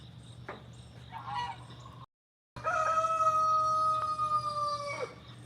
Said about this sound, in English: You're going to hear some new rooster sounds today.